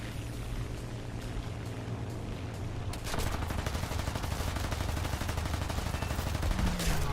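Rapid aircraft machine-gun fire in the War Thunder air arcade battle, a dense rattling burst that starts faint over a steady engine drone, then turns loud and continuous, with many guns firing at once.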